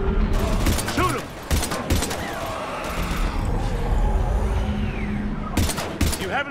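Gunfire in a Mass Effect 3 combat scene set in Vancouver: repeated sharp bursts of shots come in clusters over a dense, noisy battle background with clatter and booms, while voices shout over the fight.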